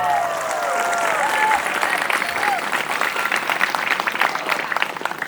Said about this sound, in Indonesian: Tepuk tangan untuk pesantren.